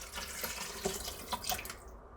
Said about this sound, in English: there is the 3 cups of water that goes into this recipe